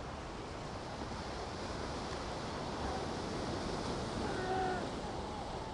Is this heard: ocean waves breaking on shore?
yes